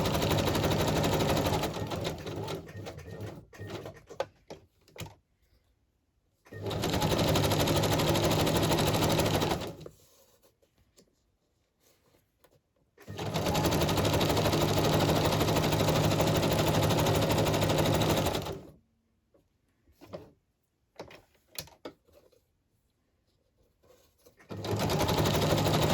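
A sewing machine stitches in two long continuous runs of steady whirring, with short clattering bursts and pauses between, close and fairly loud, no talking.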